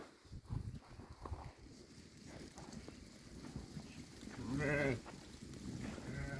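A Bozqoyun sheep bleats once, loud and wavering, over a background of shuffling animals and farmyard noise.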